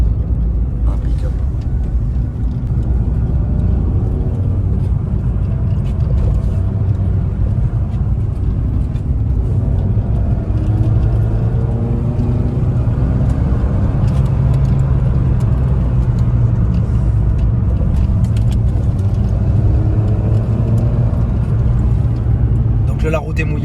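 Peugeot 206 GT driving on a wet road, a steady engine drone and low road rumble from inside the cabin, with tyre hiss under continuous talk.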